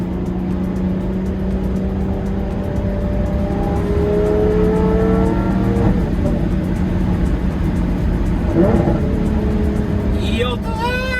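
A Lamborghini Murciélago engine revs and pulls while driving, a loud continuous roar with rising pitch sweeps heard from inside the car, with a voice talking over it.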